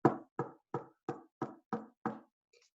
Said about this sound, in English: That's the sound of somebody knocking on the door.